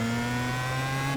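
A Star Mazda race car spins out at Homestead in the iRacing sim. The engine drones at a loud, sustained pitch that rises slightly near the end, and no voices are heard.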